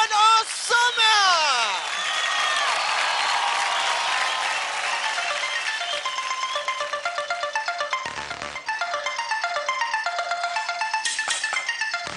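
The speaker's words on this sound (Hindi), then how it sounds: "ज़ोरदार ताली हो जाए" An audience at a kids' dance competition show claps and cheers in loud, dense applause with sweeping musical stingers over it, continuing steadily after a brief dip.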